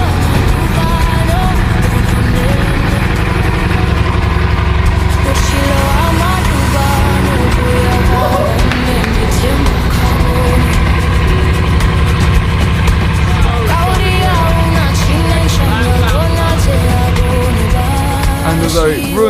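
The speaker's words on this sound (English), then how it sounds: "W16 or not, it does actually run" A Bugatti W16 engine runs steadily, a loud continuous mechanical drone with layered harmonics that holds level throughout, with some clatter on top.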